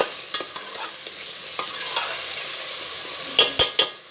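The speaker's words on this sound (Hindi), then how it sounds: "इसमें हम डालेंगे 2 खाने के चम्मच भरकर अदरक लहसुन का पेस्ट। तो भी भून लेंगे अच्छे से।" Potatoes frying with ginger garlic paste in a pan for aloo gosht, a steady sizzle broken by sharp scrapes and clinks of a spoon stirring, with a few louder knocks near the end.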